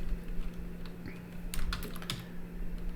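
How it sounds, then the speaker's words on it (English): A brief burst of a few quick keystrokes on a computer keyboard, clustered near the middle over a low steady hum, close and fairly quiet, with no talking. "I type"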